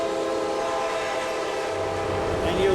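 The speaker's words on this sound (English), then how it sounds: "one of the morning trains will be coming by" An Amtrak passenger train heading from Pittsburgh to Philadelphia rumbles past a station, a steady loud roar of wheels and engine filling the whole stretch, with a faint rising tone near the end.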